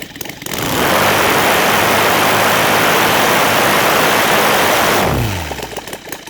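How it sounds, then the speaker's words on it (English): A Saito 450 model engine converted to gasoline with CH ignition roars loud and steady at full throttle for several seconds, then winds down as the revs drop toward idle. "I'll be curious to see from this low RPM how it's gonna do on brisk full throttle"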